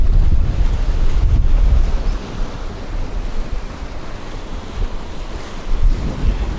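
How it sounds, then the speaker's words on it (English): Strong 16-knot wind buffets the microphone at a coastal jetty, a loud continuous roar with low rumbling gusts, mixed with surf and no speech. "Kind of impossible to hear anything out here right now because of the wind. 16 knots is what it's gotten up to."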